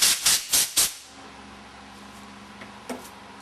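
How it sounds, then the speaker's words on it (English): Four quick loud bursts of compressed air blown through a Meyer 15606 crossover relief valve assembly, each sharp hiss cut short, followed by quiet room tone and a faint later puff. "Blow it out with some compressed air."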